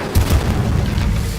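Incendio fire spell blast in Hogwarts Legacy, a loud deep booming burst that swells and rumbles on with a fiery roar, close and alone.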